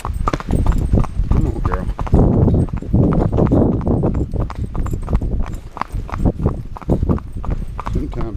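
A ridden horse's hooves clip-clop in a steady, close walking rhythm on the way to Roles Chapel Missionary Baptist Church, with the rider talking over the footfalls.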